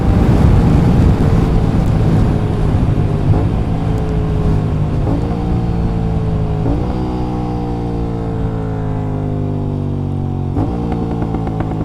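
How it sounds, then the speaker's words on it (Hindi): A motorcycle engine revs and rumbles continuously, close and loud, with sharp exhaust crackles and pops punctuating the rev changes between gear shifts. "क्या क्रैकल छोड़ती है भाई ये।"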